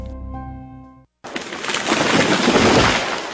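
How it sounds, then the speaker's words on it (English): After a fading tonal note and a brief silence, a loud crashing rush erupts, like branches snapping and a heavy trunk crashing down, sustained and noisy. "That was the sound of a tree falling."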